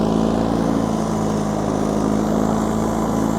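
A John Deere 316 garden tractor runs steadily while clearing snow, its engine drone loud, close and continuous with a low rumbling hum and no breaks.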